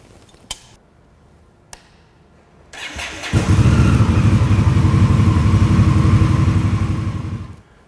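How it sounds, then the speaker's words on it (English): An Indian Scout motorcycle engine cranks and fires, then settles into a loud, steady running idle after a couple of sharp clicks and a brief whir beforehand, ending abruptly as it shuts off. "since we'll be starting the bike"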